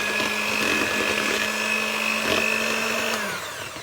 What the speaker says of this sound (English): I've got 140 grams of flour, and I'm going to whisk it just to make it a bit soft